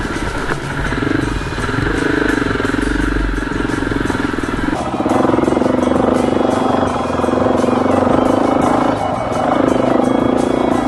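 A dirt motorcycle climbs a steep, technical hill, its engine loud and close, revving continuously with a surge in intensity midway and brief dips as the rider works the throttle.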